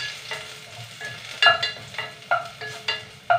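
Garlic frying in a pan for a mussel and glass-noodle soup, with a steady sizzle and stirring clinks and scrapes recurring every half second or so, close and moderately loud, no talking.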